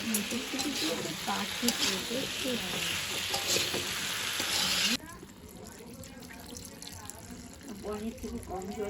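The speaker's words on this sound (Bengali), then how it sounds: "এরপর আর একটু ভাজা ভাজা হবে।" Peas added to a pan for paneer curry fry and stir with a loud, close sizzle and scraping for about five seconds, then the sizzle drops to a softer bubbling hiss while voices talk over it.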